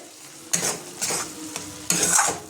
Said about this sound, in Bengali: এই মশলাটা আমি ভালো করে কষিয়ে নেবো